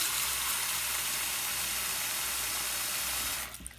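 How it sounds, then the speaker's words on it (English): Water rushing into a container to soak aquarium moss, a steady bright hiss of filling water that cuts off abruptly near the end. "Fill the container up with water."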